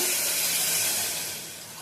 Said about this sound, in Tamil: இப்போ இதுக்கு தேவையான அளவு நம்ம தண்ணி சேர்த்துக்கலாங்க